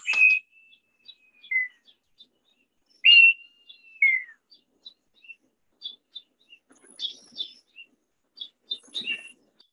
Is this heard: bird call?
yes